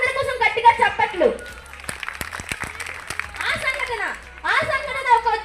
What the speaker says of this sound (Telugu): ఒక్కసారి అందరి కోసం గట్టిగా చప్పట్లు